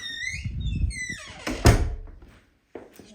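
Front door of a brick house swings open with a solid thunk and a short creak, close and fairly loud, followed by a quiet pause and a faint knock.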